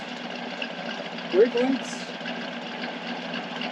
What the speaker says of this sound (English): He has a great sound through this two-door exhaust